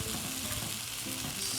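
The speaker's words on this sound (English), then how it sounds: "Smell that, hear the sizzle." Vegetables sizzle in a pan set over an open fire, giving a steady, close crackling hiss with no talking.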